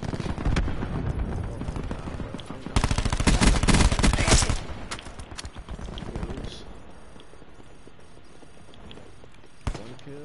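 A War Machine grenade launcher fires in a shooter video game: a dense burst of loud, rapid booming blasts dominates the middle, with scattered shots and impacts before and after and a final sharp bang near the end.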